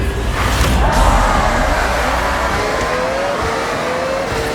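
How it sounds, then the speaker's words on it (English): A V6 car engine in a racing video game revs and roars steadily, its pitch rising and falling through gear changes, loud and close throughout. "Do I like the current engine setup with the V6? Not really, but it does sound pretty neat"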